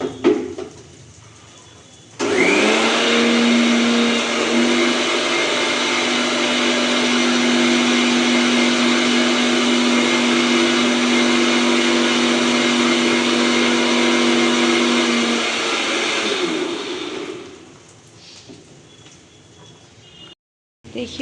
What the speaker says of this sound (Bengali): মশলাটা ঘুরিয়ে নিব মিক্সিতে